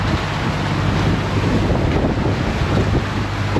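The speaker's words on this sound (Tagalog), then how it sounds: "Mahangin eh." Wind gusting steadily over a fishing boat out at sea, a constant loud roar of buffeting air and wind noise on the microphone with no break and no voices.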